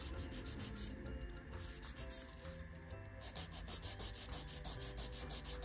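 A file shapes an acrylic nail during a Carbon Gel refill, giving a close, steady rasping scrape in quick regular back-and-forth strokes that grow louder and more rhythmic toward the end, with no talking.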